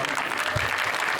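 Audience clapping fills a kirtan hall led by Baba Maharaj Satarkar, a steady dense wash of applause with crowd murmur throughout.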